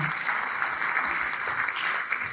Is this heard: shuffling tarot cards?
no